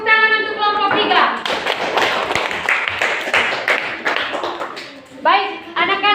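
Elementary schoolchildren in a classroom give a group of classmates a round of applause after a science discussion on magnets: dense, busy clapping, with a teacher speaking before and after.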